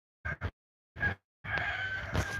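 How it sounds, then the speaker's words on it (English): A rooster crows near a house in the morning: two short clucks, a brief call, then a long drawn-out crow, fairly close and clear. "The rooster up there walking around"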